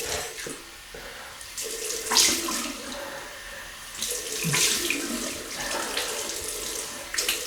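Tap water runs into a sink while someone rinses off after a double-edge razor shave, a steady close splashing broken by louder surges and clatters as hands move through the stream.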